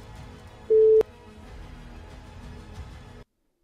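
A single short telephone tone sounds while a call is being placed, a brief steady beep with a click, followed by quiet low line hiss before the sound cuts to silence.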